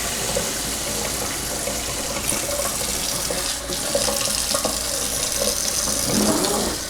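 A newly installed kitchen faucet runs steadily, hot water spraying into the sink in a continuous close rush that holds evenly throughout with slight splashing shifts.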